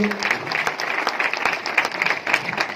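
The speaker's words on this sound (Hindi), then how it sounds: "मैं चाहूंगा गुरुदेव मनोज बजाज जी के लिए एक बार जोरदार ताली होनी चाहिए" Audience applause at an RCM business celebration event, a dense steady patter of many hands clapping close by, holding at an even level for about three seconds with no voices over it.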